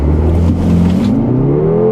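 A 2014 performance SUV engine revving at a 0-60 mph launch, a loud close growl with pitch steadily climbing as it pulls away, no talk.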